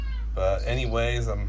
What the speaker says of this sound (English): right now you might be hearing a cat